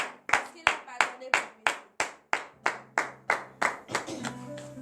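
Rhythmic hand clapping from a church congregation praising God during a morning prayer service in Benin, about a dozen sharp, evenly spaced claps close by, with a faint sustained tone beneath.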